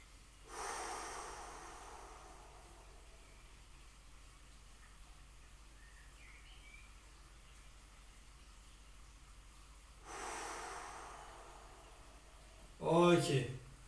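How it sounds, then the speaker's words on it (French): Slow, deep breathing during a home relaxation exercise closing a tennis fitness session: one long airy inhale-exhale near the start, a long quiet pause, another long breath, then a short spoken phrase at the end. "J'inspire profondément avec le ventre et j'expire complètement."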